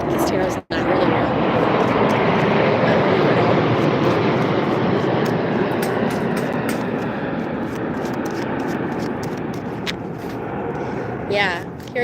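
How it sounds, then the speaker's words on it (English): Airplanes pass overhead with a steady, broad roar that fills the background for a long stretch, slowly fading, while a voice talks faintly beneath it. "hearing the planes makes me want to be on a plane"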